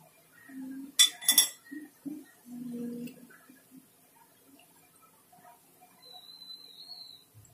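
Crisp moong dal pakodas lifted out and set onto a plate: a few close metallic clinks and scrapes of a spoon against the pan, then quiet with faint small knocks, no talk.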